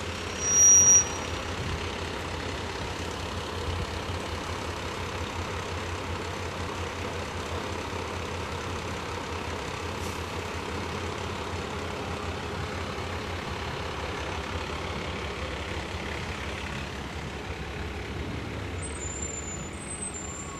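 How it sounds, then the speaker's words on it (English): Heavy vehicles from a volunteer fire association's county convention parade roll past, fire trucks rumbling alongside antique cars, with a steady low engine drone and a brief air-brake hiss near the start, continuous and moderately loud outdoors. "Then there's some antique cars and fire trucks."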